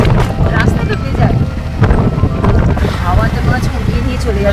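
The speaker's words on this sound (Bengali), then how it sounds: "হাওয়াতে মনে হচ্ছে উড়িয়ে নিয়ে চলে যাচ্ছে।" Strong wind buffets the microphone with a loud, continuous rushing roar on a wet road near Dassam Falls in Jharkhand, and people talk faintly beneath it.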